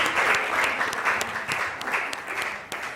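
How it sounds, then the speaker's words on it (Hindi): Studio audience at a Ramzan special television transmission applauds steadily for three seconds, a dense continuous clatter of many hands with faint voices underneath. "तालियां नहीं रुकनी चाहिए"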